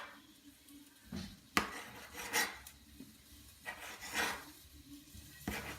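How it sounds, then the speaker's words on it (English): A knife cuts thin slices from a large link of smoked sausage, giving several soft close chops and scrapes against a cutting board in an irregular rhythm. "I'm going to slice up this meat."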